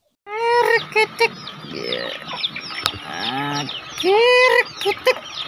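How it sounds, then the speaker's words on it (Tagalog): Chickens cluck and squawk up close, with several birds calling in quick bursts and drawn-out cackles overlapping. "Mga manok mga idol dito sa bukid mga idol."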